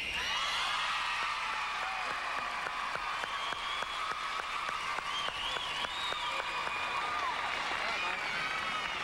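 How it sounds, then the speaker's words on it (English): A crowd at a men's international team gymnastics championship keeps up dense, steady applause with whoops and cheers mixed in, sounding large and somewhat distant. "the crowd reacting to those spinning moves"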